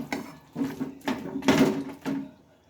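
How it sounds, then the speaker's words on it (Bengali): Mutton being worked together with spices in a kadai, with about five close, rhythmic scraping and knocking strokes of a utensil against the pan, each a short rough burst in a quiet room. "দিয়ে মশলার সাথে কিন্তু আমি ভালোভাবে মিশিয়ে নেব"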